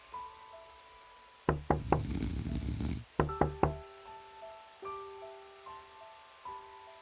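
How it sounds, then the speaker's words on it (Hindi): Knocking on a village house door at night, two bursts of three or four loud hard raps close by over a rumble and faint background tones, with no voices. "मंगीलाल के घर के दरवाजे पर कोई आकर दस्तक देता है"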